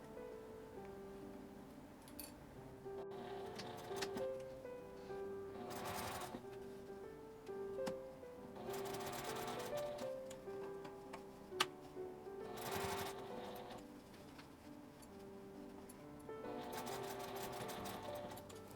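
Sewing machine stitching a small mini keychain pouch, short bursts of rapid mechanical whirring separated by pauses as the fabric is turned, quiet and close, with faint clicks.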